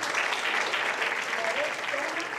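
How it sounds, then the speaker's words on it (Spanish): Steady, dense applause from an audience at a school economics event, continuous clapping at full strength throughout without pause. "La recibimos con un fuerte aplauso."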